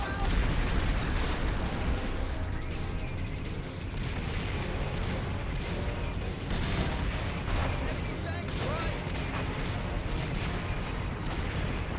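Repeated cannon blasts boom through a dense wash of game audio in a Namco 3D arcade shooter from the 1990s, loud and continuous with sharp bursts scattered across busy music and effects.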